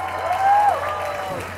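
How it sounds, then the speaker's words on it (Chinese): Concert crowd at the 2019 Iron Rose music festival bursts into applause with shrill screams and cheers, a brief, dense wash of clapping that swells and then settles. "现场的掌声加尖叫"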